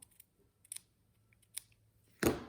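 Scissors snipping paper for a handmade autumn sympathy card, a few faint, close clicks followed by one louder, longer cut at the end, with no voices.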